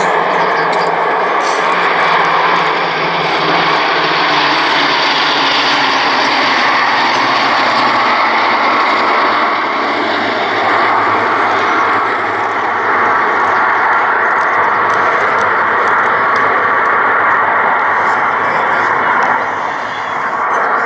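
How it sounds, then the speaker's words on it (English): A Spitfire, a Hurricane and the Red Arrows jets fly together in formation at the Cosford Air Show, producing a loud, sustained engine roar that drones steadily overhead without interruption. "Now I'm going to be quiet so you can hear the fantastic sound of these engines in formation."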